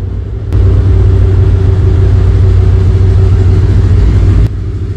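Radical RC3 race car engine on the Ascari circuit, a steady loud mid-pitched drone that swells in abruptly and holds at full strength for about four seconds before dropping back, with no voices.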